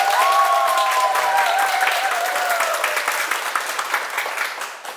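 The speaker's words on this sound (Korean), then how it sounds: "큰 박수로 한번 출발해 볼까요?" An audience at a Sunday lecture bursts into steady applause, with a brief tonal whistle-like sound over the start, and the clapping gradually tapers off over about five seconds.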